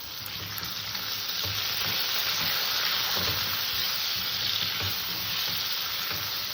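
Potatoes fry in a pan with salt and turmeric, giving a loud, steady sizzle and hiss that holds evenly throughout, with occasional soft stirring scrapes underneath.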